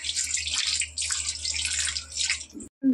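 Water pours steadily into a pot of egg curry with potatoes, a continuous splashing stream for a couple of seconds before cutting off abruptly.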